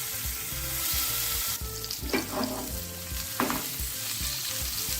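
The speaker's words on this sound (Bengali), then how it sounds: "এবারে মাছগুলোকে খুব হালকা করে ভেজে নিতে হবে।" Hilsa fish frying lightly in a couple of spoons of ghee in a frying pan, a steady close sizzle with occasional brief stirring scrapes, no voices.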